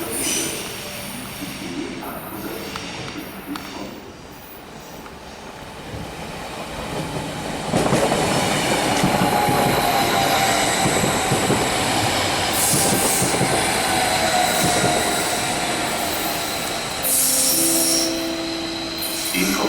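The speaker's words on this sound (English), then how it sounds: "So that train, the RE8, that's heading to the airport." RE8 regional train at a German station, moving along with a steady rumble and rhythmic clickety-clack that grows louder midway, with wheel squeal and brief faint voices.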